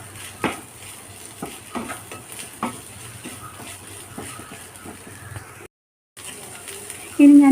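Green chilies with spices being sautéed in a pan for an okra stir-fry, with irregular scraping and stirring clicks over a soft steady sizzle, a short gap, then a louder burst at the end.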